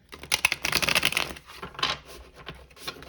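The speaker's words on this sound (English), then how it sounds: "one last shuffle here" Quick riffling and flicking of tarot cards, a burst of rapid shuffling followed by a few softer slides and taps, close and fairly quiet.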